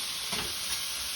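Chicken stir-frying in a pan for a pineapple and ginger takeaway-style dish, a steady close sizzle with soft scraping of the spoon across the pan.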